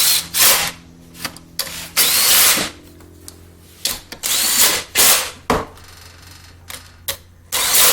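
Power tool driving bolts on a Yamaha 2000is generator during assembly, heard as repeated short bursts of whirring and buzzing spaced by brief pauses, close and fairly loud.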